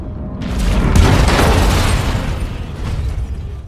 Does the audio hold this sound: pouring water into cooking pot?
no